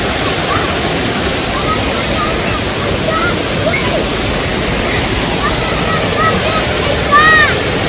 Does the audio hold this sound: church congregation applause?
no